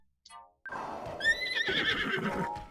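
A horse in the video game Zelda: Breath of the Wild lets out a loud, close whinny that rises and trembles for about two seconds after a brief faint sound.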